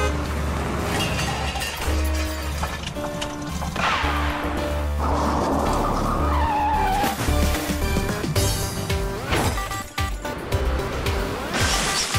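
A cartoon tow truck drives through a children's car song, with tire screeches, crashes and thwacks piled over bouncy music, loud and busy throughout.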